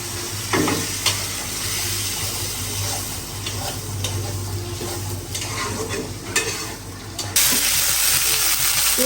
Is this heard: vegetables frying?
yes